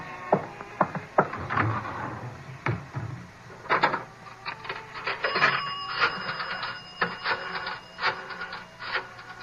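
In a radio drama, a telephone rings inside a phone booth; sharp mechanical clicks and rattling bursts come amid handling noises, fairly close, and no one speaks.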